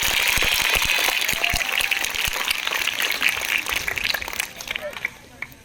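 Schoolchildren applauding together at a school gathering, a steady dense wash of clapping and crowd noise throughout that thins out toward the end.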